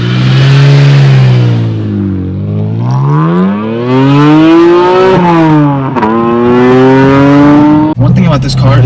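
BMW Z4 M sports car pulling away in first gear, its engine revving up loud and close in rising, falling sweeps with a brief gear-change dip, a voice talking over it.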